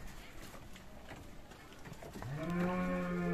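A cow at a cattle market in Dinajpur, sold together with her calf, lets out one loud, drawn-out moo near the end over a low, busy market background.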